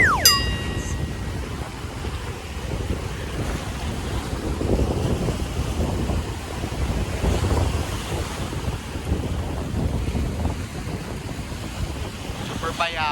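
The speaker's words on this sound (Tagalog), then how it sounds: "We are in the West Philippine Sea area." Sea waves wash ashore on the West Philippine Sea coast while wind buffets the microphone, a steady, fairly loud broadband roar that continues without a break.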